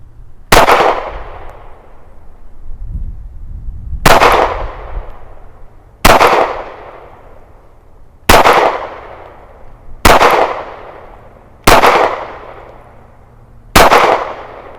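Springfield Armory Hellcat 9mm pistol fired on an outdoor range: seven loud, close single shots spaced about two seconds apart, each a sharp crack with a short decaying tail.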